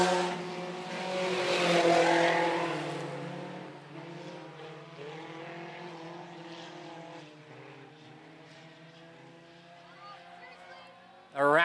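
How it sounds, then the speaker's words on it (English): Sport compact race cars roaring around a raceway in the first lap of a feature race, engines droning loudly and fading as they pass, with a race announcer calling the action over them throughout. "as Merle Johnson grabs a lead here in lap number one for the Sport Compacts."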